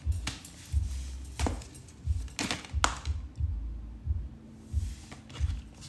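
Tarot cards being shuffled by hand during a spirit reading, a soft, steady run of dull riffling taps and flicks close by, about one every half second, with a few sharper slaps, and no talking.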